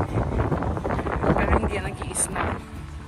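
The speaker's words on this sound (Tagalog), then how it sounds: "Medyo mahangin." Wind blows outdoors in a city park on a cool spring day, buffeting the microphone with an uneven, rumbling rush, and a voice is partly heard underneath.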